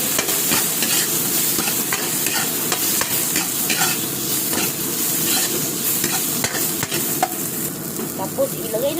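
Vegetables and tomato are stirred in a hot pan, a steady sizzle with repeated scraping strokes running throughout at close range.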